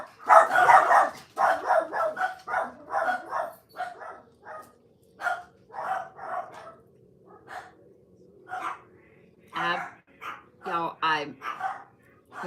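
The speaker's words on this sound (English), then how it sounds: "My dogs are gonna bark." Several dogs bark in short bursts repeatedly throughout, close by and fairly loud, mixed in with a person talking indoors.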